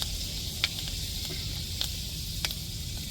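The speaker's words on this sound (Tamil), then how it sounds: "வெந்தயம் நல்லா பொரியட்டும்" A steady, soft sizzle of fenugreek seeds frying in hot oil, with a few faint pops and crackles scattered through.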